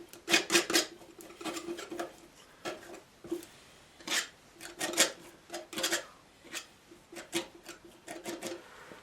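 Palette knife scraping and tapping as blue and light red oil paint are mixed, a close series of short irregular scrapes and clicks with no talking.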